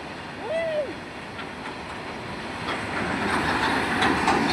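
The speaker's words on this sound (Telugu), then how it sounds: "చూడండి బ్రిడ్జ్ పై నుంచి రైలు కూడా వెళ్తుంది" A train rolls across a bridge over water, a continuous rumbling roar with faint rhythmic clatter that builds slightly, with a brief squeal early and a voice speaking over it.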